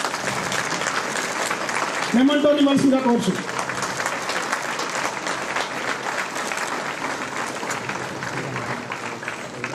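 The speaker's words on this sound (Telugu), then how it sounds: "చప్పట్లు" An audience at an ashram event with an MP claps in a steady, sustained round of applause while a speaker talks over it on a microphone.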